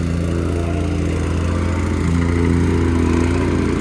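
A compaction machine pounds down the dug driveway base for pavers, a steady loud mechanical drone with a rapid vibrating thump throughout.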